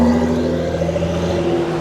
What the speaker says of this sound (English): That's a nasty sound from BMW.